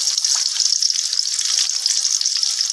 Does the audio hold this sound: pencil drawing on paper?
no